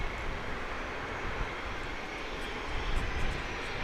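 An aircraft on a fast taxi at Grand Cayman airport, its engine giving a steady, loud broadband roar that holds throughout with no voices.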